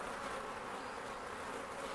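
Honey bees buzz in a dense, steady swarm as they are shaken off a hive frame into a box during a February colony split. The buzzing is loud and close and continues without a break.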